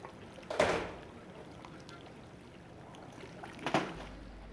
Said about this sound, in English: That's the sound of it hitting us.